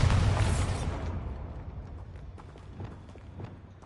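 A Bombarda spell blast in Hogwarts Legacy on PS5, a loud booming burst at the start that rumbles and fades over about a second, followed by quieter scattered thuds and pops.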